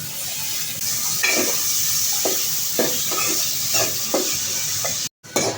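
Oil sizzling hard in a pan for a chicken curry, a constant frying hiss broken by regular stirring strokes, with a brief drop-out near the end.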